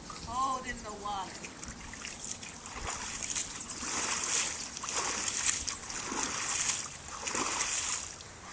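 A child splashing and sloshing in cold pool water in repeated bursts, fairly close, with a brief voice at the start and faint chatter around.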